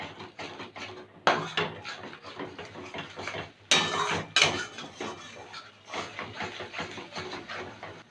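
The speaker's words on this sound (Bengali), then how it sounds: "আঁচটা মিডিয়ামে রেখে অনবরত নাড়তে হবে, যেহেতু কাজু বাদাম আছে তলায় লেগে যেতে পারে।" Masala with cashews is stirred steadily in a pan over medium heat, the spoon making rhythmic scraping and knocking sounds, with a couple of louder clattering knocks in the middle.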